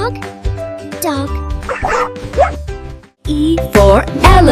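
Short dog barks come through during a preschool alphabet lesson, mixed in among children's voices and a bright, busy backing.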